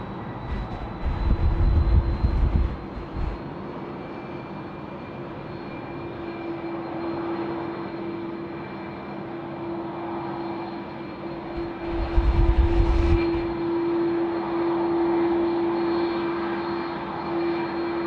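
A Qantas Airbus A330-200 jet taxis up a taxiway at Sydney Airport, its engines giving a steady whine and low rumble, with two louder low surges rising over the drone.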